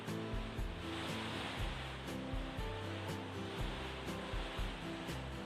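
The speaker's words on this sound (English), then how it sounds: "Can you hear it? It's absolutely pouring down." Dense, constant rush of heavy rain pouring down, with soft irregular thumps and patters underneath, close and steady throughout.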